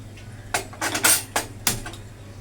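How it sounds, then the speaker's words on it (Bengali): A frying pan set down on a gas stove for mixed fried rice gives a few close metallic clanks and scrapes in quick succession, with no talk. "ফ্রাইং প্যানটা বসিয়ে দিলাম"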